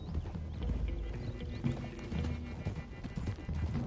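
Horses gallop in the Red Dead Redemption 2 video game, a dense, fast clip-clop of several hooves moving together, fairly faint and steady, with a brief whinny in the mix.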